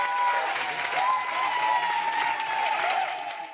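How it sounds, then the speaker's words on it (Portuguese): Crowd in a city council chamber claps during a session, a continuous burst of applause with some vocal tones mixed in, loud and sustained before easing slightly at the end. "teve espaço para aplausos"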